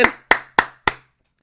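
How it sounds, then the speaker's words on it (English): Four loud, close hand claps at an even, deliberate pace, each one sharp and then quickly decaying, followed by silence, given as a salute to DJ Vlad. "Clap it up for Vlad, man."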